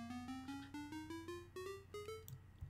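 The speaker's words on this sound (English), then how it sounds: "We got the bit, which is more like an 8-bit sound." Minecraft note block set to the bit instrument, a square-wave 8-bit chiptune tone, plays about ten short notes stepping upward in pitch at a steady rhythm, clear and close with no talking.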